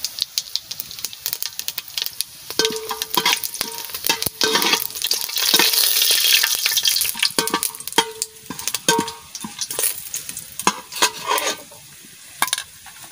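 Whole spices (cinnamon, cardamom, cloves, star anise, nutmeg and shahi cumin) crackling in hot oil for fish biryani: loud, continuous sizzling with sharp popping bursts and spoon rattles against the pan throughout, with no talking.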